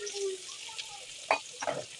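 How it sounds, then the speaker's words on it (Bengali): Chopped onions fry in oil for a tengra fish bhuna, heard as a soft steady sizzle with a couple of sharp stirring clinks near the end, close by and without speech. "এখন একটু লাল লাল করে ভেজে নিতে হবে।"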